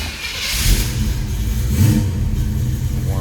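A 1972 Chevrolet Chevelle SS tribute's V8 runs close by, its engine revving up and settling in a steady, loud rumble with no talk over it.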